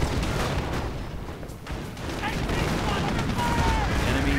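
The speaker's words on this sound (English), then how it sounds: "Nebelwerfer fires." Nebelwerfer rocket artillery and gunfire in a World War II strategy video game, a dense crackle of shots and bursts filling a few seconds, with a brief lull in the middle, under a commentator's voice.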